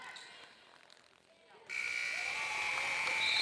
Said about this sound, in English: And a tray at the buzzer for Jasmine Fisher to make the final score 7